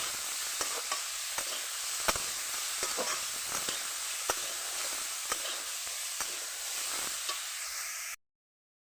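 Dried red chillies frying in hot oil in a home kitchen, a steady soft sizzle with scattered faint crackles and pops, fairly quiet and without talk, cutting off abruptly near the end.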